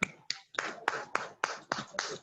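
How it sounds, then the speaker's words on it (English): Several sharp, separate claps land in a steady rhythm, about eight in a row, fairly faint and dry, like a few hands clapping for someone at a small gathering. "Can someone clap for our our Auntie Ayo"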